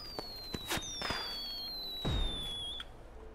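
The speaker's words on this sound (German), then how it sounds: "Feuerwerk." Fireworks in the video game Yonder: The Cloud Catcher Chronicles launch with long whistling trails, then crack into several sharp pops and one deeper boom, heard close and fairly loud with no one talking.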